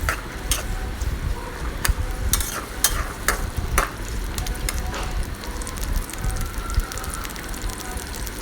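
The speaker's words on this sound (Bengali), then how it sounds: "পেঁয়াজটা এখন ভাজা হয়ে গেছে" Onions, garlic and whole cumin seeds frying in a pan for a jute-leaf lentil dish, a steady close crackle and hiss with occasional sharp stirring scrapes, no voices.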